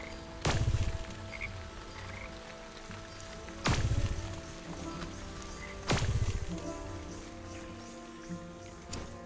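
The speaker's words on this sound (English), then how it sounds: "There's some froggies." Frogs croaking in the Wytchwood video game, three loud, close bursts of croaking spaced a few seconds apart over a soft ambient background.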